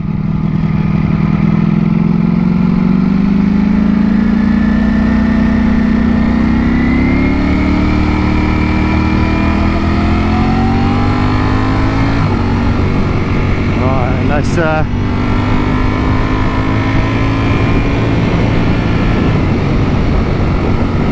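A Ducati Panigale V4S (2022) sport motorcycle engine drones loudly, its pitch climbing steadily as it revs and accelerates, with wind rushing throughout.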